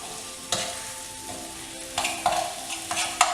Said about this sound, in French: Je bouge les tranches d'oignon.